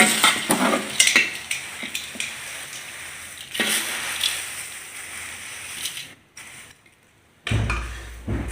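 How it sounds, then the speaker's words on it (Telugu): Tempering being mixed by hand into flattened rice (poha), close rustling and soft scraping in uneven bursts, with a short near-silent pause before a final stir. "ఇప్పుడు ఇవి కలిపేసుకుందాం మన అటుకులల్లో"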